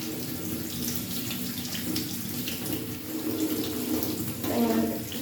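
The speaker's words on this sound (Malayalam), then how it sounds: "ഇത് ഇതൊന്ന് നമുക്ക് കഴുകാം ഇങ്ങനെ അരിപ്പിൽ വെച്ച് ഇങ്ങനെ കഴുകാം" Tap water runs steadily over millet grains held in a sieve at a kitchen sink, a continuous close splashing rush with no pauses.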